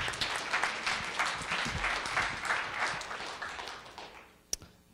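An audience at a Stark Tank student pitch event gives Austin a round of applause, a steady rattle of many hands clapping that thins out toward the end, followed by a couple of sharp knocks.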